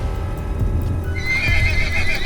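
Horse from an animated love story, galloping off in the rain with steady clip-clop hoofbeats and a whinny over a rainy background, growing louder and brighter in the second half.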